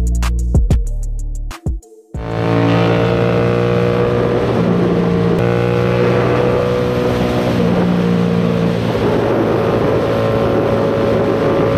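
A Yamaha MT-07 motorcycle engine runs loud and close with a steady, throaty rumble and slight rises in pitch, after a couple of seconds of sharp clicks and a brief gap.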